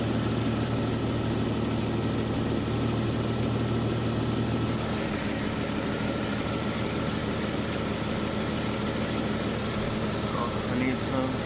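A Jeep ZJ engine idles in neutral, a steady, loud mid-low rumble that runs unbroken from start to end.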